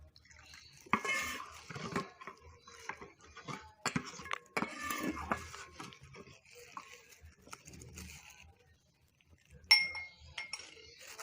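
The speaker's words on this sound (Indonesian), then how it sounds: "Kita tuang, lalu kita aduk dengan rata." Drink stirred with a spoon after pouring in 50 ml of plain water: light clinks of metal against a glass in quiet, irregular bursts, close and soft.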